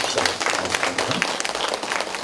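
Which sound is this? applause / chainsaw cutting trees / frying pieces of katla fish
applause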